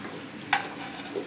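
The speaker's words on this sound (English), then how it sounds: "keep the pan nice and oily. That nice hard sear." Brussels sprouts searing in an oily pan, a steady soft sizzle with one brief scrape of stirring, close and continuous with no speech.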